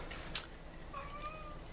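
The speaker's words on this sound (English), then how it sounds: "if you hear something, it's my little kitty. She's starting to be hungry" A hungry pet cat gives one short, faint meow indoors, then a soft, thin tail of sound in a quiet room.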